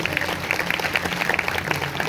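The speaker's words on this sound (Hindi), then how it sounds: "अगर आए तो जोरदार तालियां बजाएंगे" Applause from an audience at a Sunday church service, a steady dense clapping wash lasting a couple of seconds with a low hum underneath, fairly even and moderately loud.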